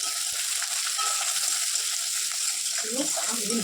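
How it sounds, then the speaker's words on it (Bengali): Spices and nigella seeds frying in hot oil, a steady, close hiss and crackle that runs without break, with a few faint stirring taps underneath. "আমি ভেজে নিচ্ছি, পরে ফিরে আসছি।"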